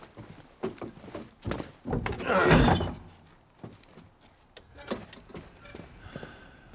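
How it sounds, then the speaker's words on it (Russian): A door closes with a heavy thunk in the video game The Last of Us Part 1 remake, a single dull impact amid soft footsteps and shuffling, with no talk over it. "А ты дверь закрой"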